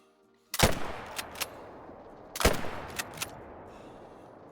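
Two loud, sharp rifle shots from a .257 Magnum at wild boar in the hunting game Call of the Wild, each followed by a brief rattling echo and tail, spaced about two seconds apart.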